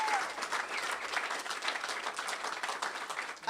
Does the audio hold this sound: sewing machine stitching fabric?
no